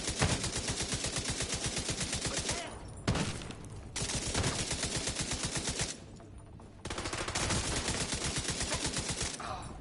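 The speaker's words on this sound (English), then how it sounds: "Gunshot, agent." Rapid automatic gunfire in The Division 2, a loud, dense run of machine-gun bursts with brief pauses around the three- and six-second marks, close and continuous without talk.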